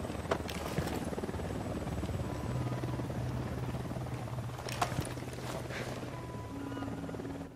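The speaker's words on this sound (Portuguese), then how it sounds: "Helicóptero da unidade, se abaixe." A military helicopter in the video game Ghost Recon Wildlands drones steadily nearby, its low rotor hum continuous throughout with a few scattered clicks and knocks on top.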